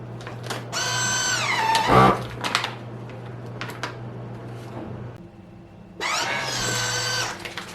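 A bag sealer cutting and sealing a plastic bag: two loud bursts of mechanical motor whine, each lasting a few seconds, with a quieter stretch of handling noise and small clicks between them.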